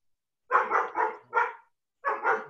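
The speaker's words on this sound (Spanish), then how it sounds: "no escuché porque ladró un perro" A dog barks repeatedly nearby during an online medical lecture, sounding a quick run of four sharp barks, a short pause, then two more.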